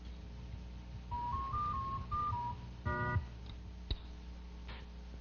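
Synthesized laboratory tones step through short sustained pitches, then stack together at once into a major chord, followed by a few faint isolated clicks in an otherwise quiet background.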